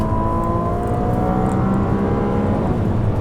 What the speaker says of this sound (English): All those shifts you're hearing, that is pure automated Ferrari.